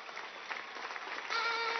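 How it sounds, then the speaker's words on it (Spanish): A large crowd of women applauds at a Women's Day march in Caracas, a brief dense burst of clapping that swells louder toward the end. "pedir un aplauso para ustedes mismas por la energía"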